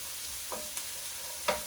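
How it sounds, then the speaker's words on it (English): Onions fry in a pan for a beef stew, with a soft sizzle under a few brief pops and light stirring scrapes, quiet and close. "in the pan top, so the onions are popping"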